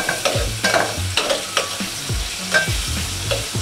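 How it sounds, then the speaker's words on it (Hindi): Chicken with red chili frying in a pan, with steady sizzling and repeated scraping strokes of a stirring spoon against the pan in an uneven rhythm, close up and with no talk. "तो गाइस अभी चिकन डाल चुके हैं, ठीक है, अभी चिकन बन रही है।"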